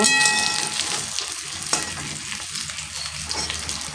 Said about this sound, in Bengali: ভেজে নিয়েছি মাছগুলো